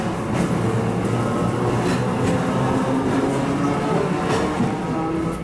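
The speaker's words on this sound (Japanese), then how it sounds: "取り掛けモーターのウィーンという音が懐かしいですね" A Manyosen tram pulling away around the station-front rotary in Takaoka, its traction motor giving a steady, continuous whine over the rolling rumble of wheels and car body, loud and close throughout.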